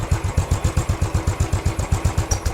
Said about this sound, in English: single cylinder thumping poetic noise